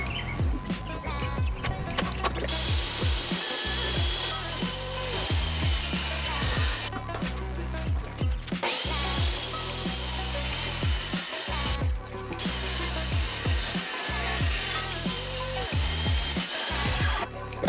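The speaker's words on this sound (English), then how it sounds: "What the plan is right now is that I'm gonna cut the box in half." A box for a DIY plutonium case prop is sawn in half, giving steady, rhythmic cutting strokes and scraping with brief pauses. The sawing stays close and fairly loud throughout.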